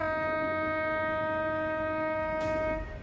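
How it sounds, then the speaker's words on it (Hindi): Oxygen Express train sounding a long, steady, loud horn as it pulls into Bareilly station, the sustained tones held until they cut off near the end over low rumbling. "हॉर्न बजाती हुई ट्रेन की आवाज तो कई दफा आपने सुनी होगी"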